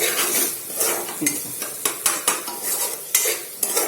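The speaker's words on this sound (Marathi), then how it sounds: "आता याला आपण मसाला व्यवस्थित शिजू देऊया" Masala being stirred and cooked in a pan for a Gavar (cluster bean) sabji, with steady sizzling frying under repeated sharp scraping strokes of the spoon, close and fairly loud, no talking.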